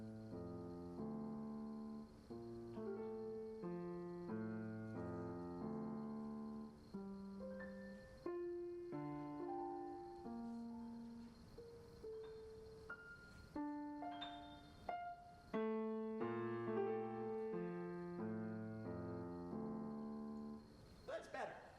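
Piano playing a hailstone-number sequence mapped onto a restricted set of six notes, a steady stream of single notes and overlapping tones in a flowing rhythm, clear and continuous without talk.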